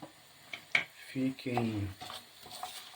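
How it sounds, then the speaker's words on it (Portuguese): Rice being stirred into melted butter in a pot for a shrimp risotto, giving a few scraping, clinking utensil sounds against the pot, close and moderately quiet, with brief voice-like tones in between. "Mexer para que todos os grãos fiquem"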